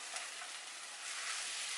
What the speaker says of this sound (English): I'll cook it till the oil comes on the top, and the chutney is well cooked